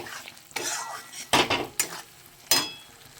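Mutton with spices is stir-fried in a pan, with a utensil scraping and clanking against the metal in several sharp, irregular strokes over a soft background sizzle, close and fairly loud.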